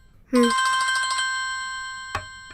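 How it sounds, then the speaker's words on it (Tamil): A mobile phone ringtone in a Tamil TV serial scene starts abruptly as a loud, bright electronic melody, then fades into a sustained ringing tone with a short chime-like ping near the end. "மாமா ஃபோன் அடிக்குது."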